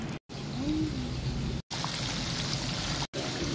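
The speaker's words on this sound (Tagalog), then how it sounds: "Kumukulo na." Steady bubbling and hissing of liquid boiling in a pot, continuous and close, broken by a few brief silent cuts.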